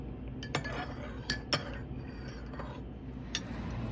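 A metal spoon stirs coffee in a cup, giving several sharp, quiet clinks against the sides at uneven intervals over a soft background hum.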